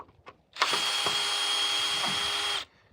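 A power drill drives into a wooden board on a farm, one steady whining run of about two seconds, close and loud, with brief knocks before and after.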